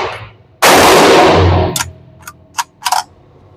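A single loud blast from a Kriss Vector 10mm carbine fired outdoors, followed by a short decaying tail and a few faint sharp clicks or ticks after.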